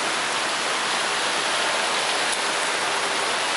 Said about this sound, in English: And there's waterfalls.